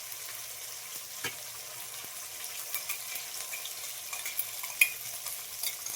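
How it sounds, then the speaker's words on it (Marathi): A ground green masala paste goes into a frying pan for a spicy Khandeshi dubuk vada curry, giving a faint, steady sizzle with soft scraping stirs and a few light clinks. "वाटण तयार केलेलं आहे ते टाकून घेऊ."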